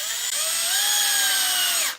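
A power drill with a good-quality bit whines steadily while boring a hole into a car chassis, a loud continuous high-pitched drone that shifts slightly in pitch before winding down at the end.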